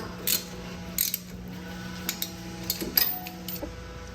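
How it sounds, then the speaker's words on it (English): Small metallic ratcheting clicks and clanks come from a wrench tightening 21mm caliper bracket bolts over a brake rotor on a Jeep Cherokee XJ with Rubicon Dana 44 brakes, scattered close taps against a quiet garage hum. "add your caliper bracket, tighten up the 21mm bolts"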